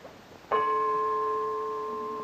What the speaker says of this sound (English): When the gong sounds once, it will be exactly midnight.